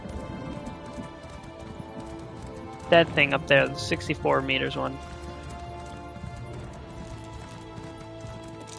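Horse hooves clip-clop steadily while riding in The Elder Scrolls Online, a soft rhythmic patter under background game music, with a player talking over the middle.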